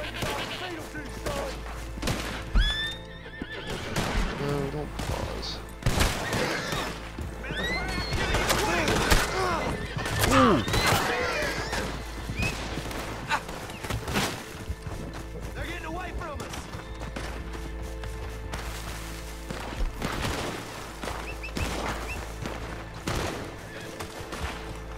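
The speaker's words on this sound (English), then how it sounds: "Every time I try to jump on my horse, a new motherfucker is shooting at me." Repeated gunfire in the Western video game Red Dead Redemption, with bursts of shots and thuds spread across the whole stretch, loud and close, under a player's voice talking to his horse.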